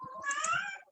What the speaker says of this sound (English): Pause this a moment to deal with a kitty that probably needs to be put away somewhere.